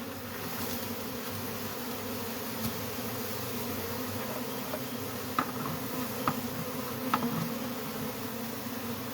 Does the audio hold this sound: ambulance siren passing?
no